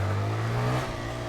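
Motorcycle engine revving while riding: a brief, steady drone that climbs in pitch as the throttle opens, heard close and fairly loud.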